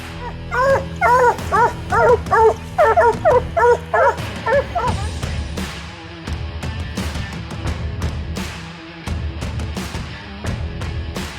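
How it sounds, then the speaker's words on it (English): Raccoon hunting dogs outdoors give a rapid run of loud, close barks for several seconds, then break into scattered yips and whimpers over rustling. "these first 2 dogs I'm going to turn loose is Molly and little Harlan."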